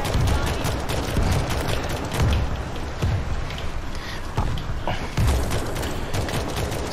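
Gunfire from players shooting zombies in World War Z, repeated loud shots and impacts in steady bursts across a chaotic game soundscape, with no clear talking.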